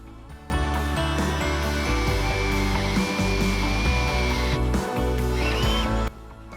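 An electric drill bores a bolt hole straight through wood for a guitar rack being converted for ukuleles, a steady motor whine starting abruptly, dipping briefly a few times, then cutting off near the end.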